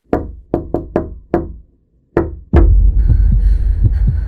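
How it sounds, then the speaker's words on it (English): Knocking on a door, six loud hollow raps in an uneven pattern with pauses between, followed by a sudden rush of low rumbling noise that continues to the end. "It was the same knocking pattern that I had been hearing for the last several nights."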